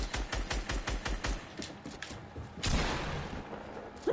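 Rapid bursts of video game gunfire crack out in a quick volley, a dozen sharp shots in the first second and a half, followed by a louder blast and a lingering rumble.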